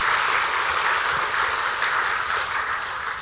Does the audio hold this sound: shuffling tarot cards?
no